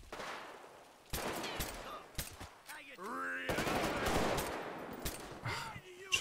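Gunfire in a GTA 5 zombie mod, with rapid shots and bursts that start after a quiet opening and continue with other game sounds and a voice underneath.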